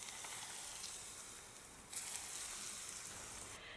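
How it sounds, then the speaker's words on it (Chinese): Hot oil left over from frying peanuts is poured over minced garlic and chili, giving a soft steady sizzle that swells into a brighter crackling burst partway through. No one speaks. "剩下的油呢，给它浇在蒜末辣椒上。"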